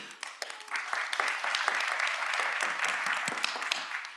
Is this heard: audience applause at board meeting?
yes